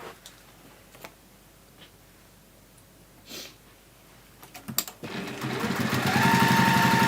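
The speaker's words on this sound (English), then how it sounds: "so we're going to sew all the way along the bottom there" A sewing machine stitches along the bottom seam of a fabric in-shower washbag. There are a few soft handling clicks, then the motor starts at about five seconds and runs steadily, close and loud, with no talking.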